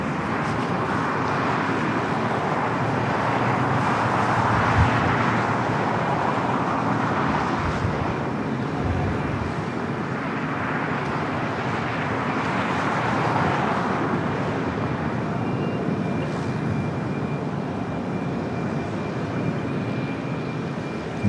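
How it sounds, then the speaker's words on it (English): Singapore Airlines jet in Star Alliance special livery taking off from the north side at LAX, a steady broadband engine roar sustained throughout, moderately distant under constant airport ambience. "Singapore taking off there on the north side in the Star Alliance special livery."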